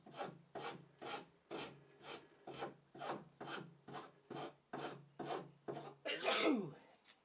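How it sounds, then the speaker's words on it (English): A spokeshave shapes a wooden mallet handle with about a dozen regular rasping strokes, each a short scraping pass. The final stroke is louder and rougher. "You can avoid this roughness by working the spoke shave in the opposite direction for these kind of surfaces."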